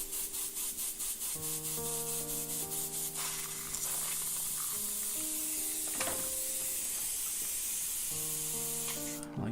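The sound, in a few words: airbrush spraying paint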